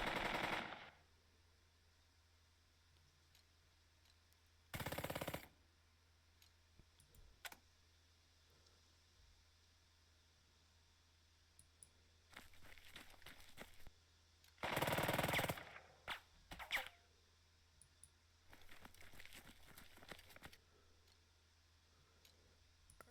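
Gunfire in the tactical video game Burden of Command: separate bursts of rattling shots, one near the start, one around five seconds, and a heavier cluster near fifteen seconds, with sparser clicking volleys between over a low steady hum.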